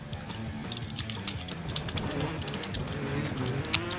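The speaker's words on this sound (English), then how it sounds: "we'll see how fast I can type." Typing on a computer keyboard, a steady rapid patter of light key clicks running throughout, close and fairly soft, with faint voices murmuring underneath.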